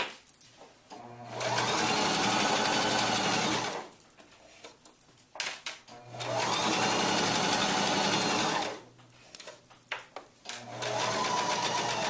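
Close sewing machine stitching a pillow seam in three long steady runs of rapid needle clatter and motor hum, with short stops between where faint handling noises are heard, no speech.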